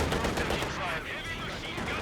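Machine gun fire in the strategy game Company of Heroes 2, a dense, loud burst of rapid automatic shots forming a continuous rattle over two seconds with a faint murmur beneath.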